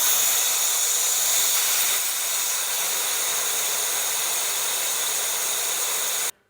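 Air hisses steadily and loudly out of a tire valve being deflated, a broad continuous rush that eases slightly after two seconds and then cuts off abruptly near the end.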